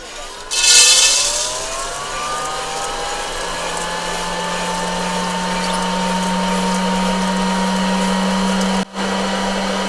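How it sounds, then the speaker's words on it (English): An Aillio Bullet coffee roaster ending a roast, with a loud mechanical whir and fan drone swelling as the beans drop, a brief rattle at the start, then a steady hum with a rising tone. "I'm going to go ahead and drop the coffee."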